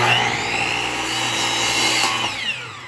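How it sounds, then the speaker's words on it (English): A miter saw cuts a long mitered piece of wood for a picture frame, a loud close whining blade roar sustained for about three seconds before tapering off. "Let me cut the other long miters."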